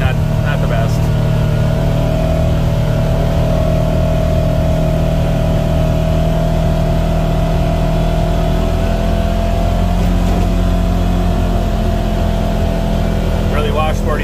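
A 2022 Segway Fugleman UT10X UTV engine drones loudly and steadily while riding over washboard dirt, with constant mechanical hum and road rumble throughout.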